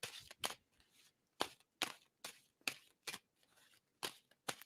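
Tarot cards being shuffled by hand during a reading, a run of short crisp riffling bursts at close range with quiet gaps between them, no talking.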